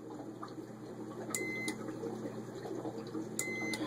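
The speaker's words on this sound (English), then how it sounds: "So you can hear it beeps really short." An Arduino-controlled pump gives two short beeps in an on/off cycle, each a brief electronic tone about two seconds apart over a faint hum and watery background, quiet and close.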